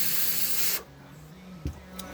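Cleaner sprayed and then blown out of a carburetor float needle: a loud, close hiss of spray lasting under a second, cut off sharply, then a quieter background with a brief puff.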